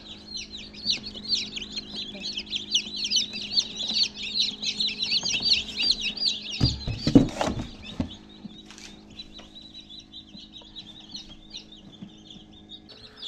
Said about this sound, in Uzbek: Mana jo'jalarimiz boshladik.